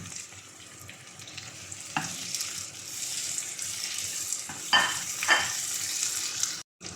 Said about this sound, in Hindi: अब हम प्याज को मीडियम फ्लेम पर प्याज का कलर चेंज होने तक फ्राई कर लेंगे।